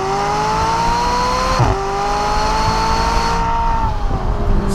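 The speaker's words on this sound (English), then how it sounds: "you get the full wallop of the V8" A McLaren 570S Spider's V8 engine revving hard and steady, its pitch climbing, dipping briefly, then rising again before easing off, loud and close with no talk.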